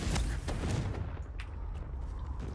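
A Confringo blasting spell goes off in Hogwarts Legacy, a burst of explosive crackle followed by sustained rumbling, dense and loud throughout a short stretch of game noise.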